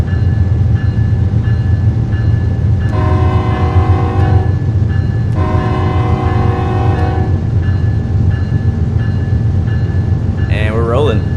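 A GE Evolution diesel locomotive in Train Sim World 3 drones steadily and loudly, with two sustained horn-like tonal blasts and a brief warbling sound near the end, under intermittent talk.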